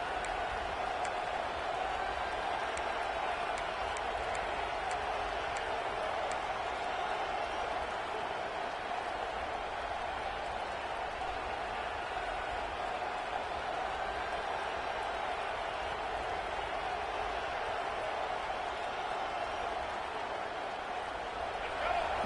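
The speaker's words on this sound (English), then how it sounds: "Listen to the crowd energy here in the early going." Stadium crowd in a college football video game: a steady, dense roar of distant fans with faint applause, continuous and even throughout, under a commentator's voice.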